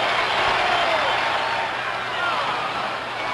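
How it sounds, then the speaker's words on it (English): Fenway Park crowd at the 1975 World Series Game 6 between the Reds and Red Sox, a steady, dense roar of cheering and applause from a packed ballpark that swells and fades slightly throughout. "Listen to that crowd."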